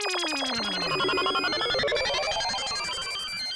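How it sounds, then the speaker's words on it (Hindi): A mobile phone ringtone plays loudly and continuously during a school exam, a busy electronic melody of rising and layered tones with no talk over it. "ये किसका मोबाइल बजा?"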